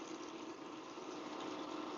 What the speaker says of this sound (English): And add about 2 cups of water.